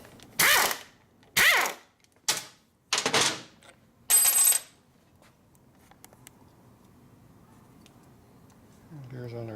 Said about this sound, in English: we're going to take off this joiner nut now